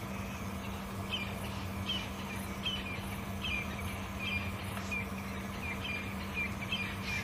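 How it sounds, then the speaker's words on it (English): Faint, repeated calls of crested francolins sound far off over a steady hum of insects and background drone on an African safari drive. "And there's some crested francolin in the distance."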